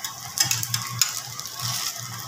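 Poha tikki frying in a pan on a gas flame makes a quiet sizzle with several sharp scraping and clinking touches from a utensil, close and uneven, with no talking.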